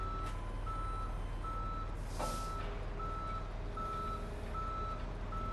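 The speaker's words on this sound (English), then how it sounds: "car's getting towed off" A tow truck in the Police Simulator: Patrol Officers game reverses to tow a car, its backup beeper pulsing steadily over a low idling engine rumble, with a brief hiss of air brakes midway.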